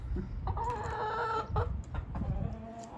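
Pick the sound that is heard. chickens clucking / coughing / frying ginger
chickens clucking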